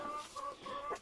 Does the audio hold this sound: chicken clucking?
yes